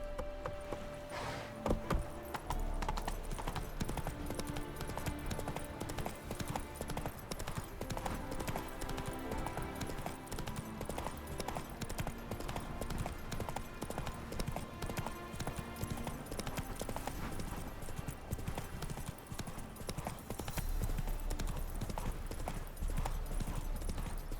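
A horse is ridden in The Witcher 3, with steady clip-clopping hooves that carry on throughout over dense game music and ambience.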